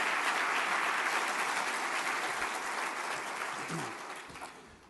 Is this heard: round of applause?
yes